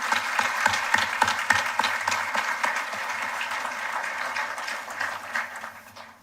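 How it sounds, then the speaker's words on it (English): A graduation audience applauding at Bermuda College, dense sustained clapping from a large crowd that fills the space evenly and then tapers off toward the end. "Let's give ourselves a round of applause."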